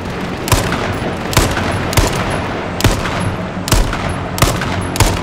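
Gunfire in the survival battle royale game H1Z1 rings out as loud, evenly spaced single shots, about seven in a steady rhythm over constant background game noise.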